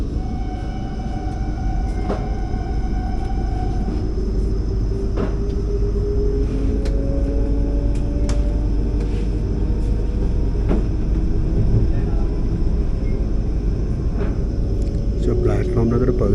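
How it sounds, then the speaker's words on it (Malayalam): The Mysore–Kochuveli Express, train no. 39119, rolls into a station platform with a steady heavy rumble, squealing wheel tones and clanks, loud and continuous throughout. "മൈസൂർ കൊച്ചുവേളി എക്സ്പ്രസ് കൊണ്ട് കയറി വരുന്നു."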